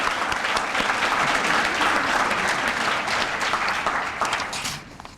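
A round of applause from guests at a historical society's annual dinner, steady and fairly full for several seconds, then tapering off quickly near the end.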